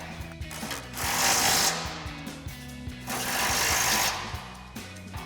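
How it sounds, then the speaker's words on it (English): An impact wrench fitted with a 16 mm socket and extension tightens bolts on a full-width rear bumper for a Ford Bronco, rattling loudly in two sustained bursts with a rapid hammering chatter, separated by a short pause. "tighten those down with our 16 mil socket and extension on our impact"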